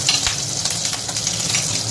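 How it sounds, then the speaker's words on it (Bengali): Black mustard seeds sputter and crackle in hot oil, a close, dense sizzle with scattered sharp pops running steadily throughout. "কালো সরষেটা ফুটতে লাগলে"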